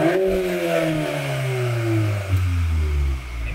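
A Volkswagen Golf 8R with an Akrapovic exhaust revs up, its engine tone climbing steadily then dropping off near the end, loud and close with no voices over it.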